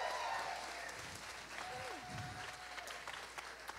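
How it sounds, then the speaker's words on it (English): An audience at a children's Christmas program claps steadily as the young performers leave the stage, with the applause faint and distant and a few softer voices and sounds drifting beneath it. "Let's give them another round of applause as they come on off."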